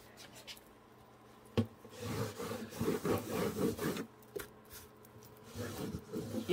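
Clear wax is rubbed by hand onto a wooden nightstand painted Dixie Belle Antebellum Blue, producing quiet, irregular scrubbing strokes in two short bursts with soft pauses between them.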